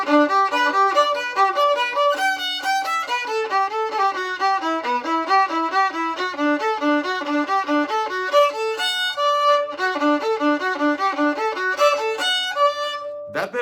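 Solo violin playing three measures of a song, a quick run of clear, bright notes at a steady tempo with skips between pitches, close and alone.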